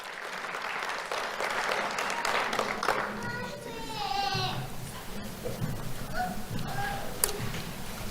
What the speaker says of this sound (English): Let's have a round of applause for Ariadna Vargas.